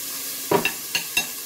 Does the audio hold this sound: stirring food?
yes